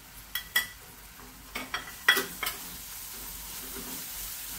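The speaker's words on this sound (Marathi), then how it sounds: "कचवटपणा जाईपर्यंत आपण परतून घेऊया जरा।" Ginger, garlic and coriander paste is sautéed in a pan, with a handful of spoon scrapes and taps over a low, steady sizzle and no voices.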